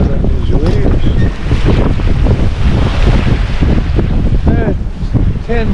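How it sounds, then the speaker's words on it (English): Wind roars steadily across the microphone aboard a sailboat running from Ladysmith to Parksville, with waves around four feet breaking and whitecaps hissing and splashing alongside the hull in a constant, loud wash. "Probably 4-foot waves breaking. Or white caps."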